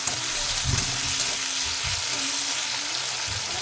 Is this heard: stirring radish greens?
yes